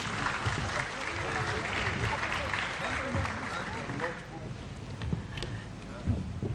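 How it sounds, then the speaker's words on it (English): Audience applause at the closing ceremony of an annual general assembly, a sustained wash of clapping from a crowd that fades toward the end, with some speech nearby. "Another round of applause."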